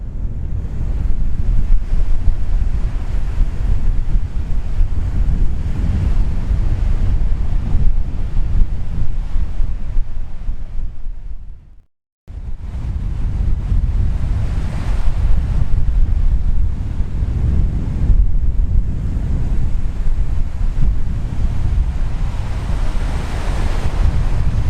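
Strong wind blowing across an open hillside slope-soaring site, roaring and buffeting the microphone in continuous heavy rumbling gusts, broken by one brief near-silent gap midway, with no voices.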